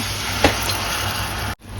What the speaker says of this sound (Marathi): यात मी टाकतो थोडासा पाणी